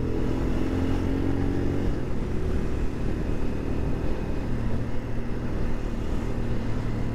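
A Royal Enfield Scram 411 motorcycle cruises along with a steady low engine drone and road rumble, moderately quiet and continuous, with no talk.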